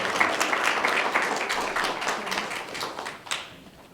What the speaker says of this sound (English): if you can give a round of applause to Daniel Gutierrez